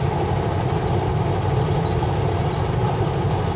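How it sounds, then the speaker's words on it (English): A train passing close alongside the railroad near Kamloops, a steady low rumble and drone that stays constant and loud throughout with no break. "It's been a long time since we've actually caught a train right next to us."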